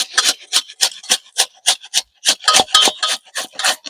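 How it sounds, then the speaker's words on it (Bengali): Banana root rubbed on a small grater, loud and close, in a quick, regular run of rasping strokes, each with a short pause, with no talking. "সবগুলো আমি এইভাবে ঘষে নেব এই গ্রেটারের সাহায্যে"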